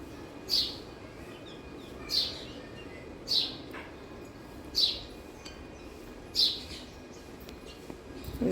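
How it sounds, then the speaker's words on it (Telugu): Birds around a home where parrots gather, giving a bright, high chirp repeated five times at roughly even intervals over a faint background hiss, with no talking. "చూడండి ఈ పక్షులు ఇక్కడ అక్కడ చిలుకలు ఇదే కోలాహలం"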